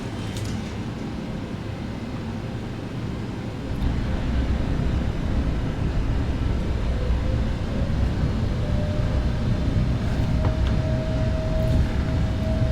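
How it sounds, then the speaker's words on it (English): A PMDG 777 in a flight simulator sound pack rolls along the runway, its deep broad rumble of nose wheel and roaring thrust reversers swelling louder after a few seconds and holding steady, with a faint rising whine near the end. "The loudest noise comes from the nose wheel. I like that, but the reversers are well audible."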